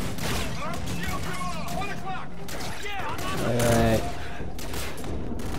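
Rapid gunfire from Call of Duty: Infinite Warfare rattles in loud, continuous bursts while someone talks over it throughout.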